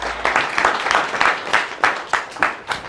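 An assembly crowd at a Ugandan commerce college claps together, a dense burst of hand claps that swells in rhythmic waves, close and fairly loud.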